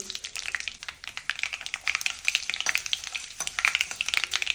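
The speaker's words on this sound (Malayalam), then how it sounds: "കടുക് പൊട്ടിയിട്ടില്ല കടുക് പൊട്ടണേ ഉള്ളൂ" Mustard seeds splutter in hot oil for a bitter gourd pickle, a dense, continuous crackle of rapid pops and sizzle with scraping stirs, close and fairly loud, with no talking.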